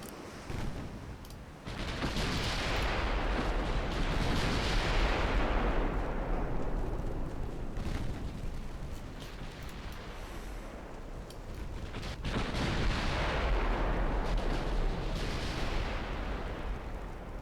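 Warships firing their guns in a naval strategy video game, heard as two long, loud booming salvos that swell and roll away, with no talk over them.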